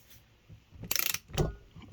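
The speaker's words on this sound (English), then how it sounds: "I'm just running this nut down right now" A ratchet runs a nut down on the pinion of a Mopar 8 3/4 rear axle during pinion depth and preload setup: a quick, close run of clicks, then a fainter metallic clack.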